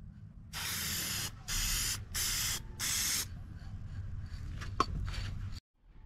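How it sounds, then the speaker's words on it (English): A spray can lays clear coat onto a weathered solar panel in four bursts of hissing spray separated by short pauses, followed by quieter handling noises and a faint click. "apply a thin coat of the clear coat over top of the solar panel"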